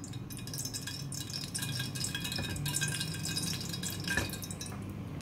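Cooking oil trickles and drips into a pan, ready for frying keema karela, with a close, continuous liquid patter and a few sharper splashes, no talking over it.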